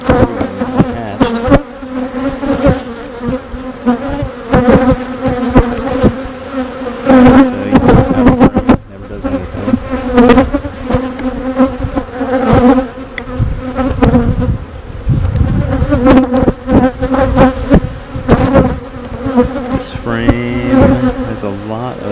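Honey bees buzzing around an active beehive during an inspection, a dense, loud, close droning hum with overlapping wingbeat tones rising and falling, with a voice speaking at times.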